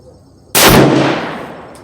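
A single 7mm magnum rifle shot fired outdoors at a 50-yard target: one loud, sharp blast after a quiet moment, followed by a long rolling decay.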